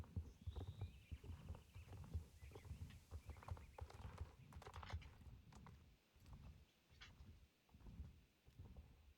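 Horse hooves clip-clopping in a moorland quest game, a quick irregular patter of soft thuds running steadily for several seconds, fairly faint with light clicking mixed in.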